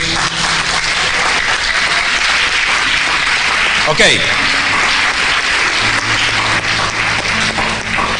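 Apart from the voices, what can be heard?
congregation applause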